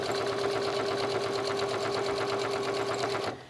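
A sewing machine stitches steadily around the seam of a fabric travel bag, a continuous fast motor whir with a rapid needle rhythm that stops abruptly near the end.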